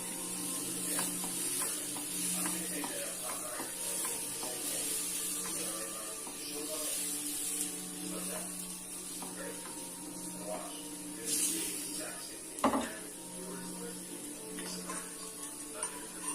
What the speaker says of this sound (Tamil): இப்போ தோசை ஊற்றிக்கலாம்.